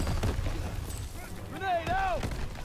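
A grenade goes off with a heavy, rumbling boom in a Call of Duty: WWII battle, while soldiers shout over the blast and its fading rumble.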